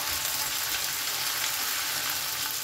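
Onion frying with ginger-garlic paste in a pan for aloo bhuna, a steady close sizzle with constant bright hiss that runs unbroken throughout.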